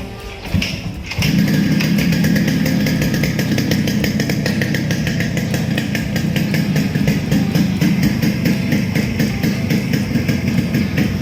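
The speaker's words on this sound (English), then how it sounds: "So I turned off the choke, letting it idle, and here, listen to the beat." A Yamaha RX100 two-stroke motorcycle engine starts with a kick and then idles loudly and close by, its rapid, steady, buzzing beat running on without a break.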